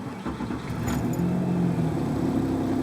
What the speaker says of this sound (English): We'll go start up the truck.